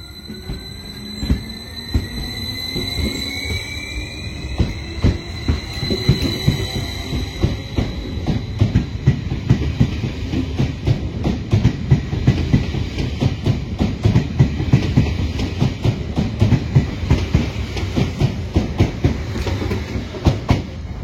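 A Léman Express Regiolis train rolls along the rails in Switzerland with steady rumbling and rhythmic clickety-clack, loud and close, running continuously throughout.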